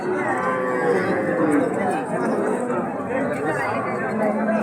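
A crowd of cattle at a livestock market, including small native cows and calves, gives low moos beneath a dense, steady chatter of many voices nearby.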